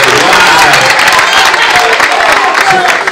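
An audience at a public event applauds loudly and steadily, a dense wash of clapping close by with voices mixed in, tapering slightly at the end.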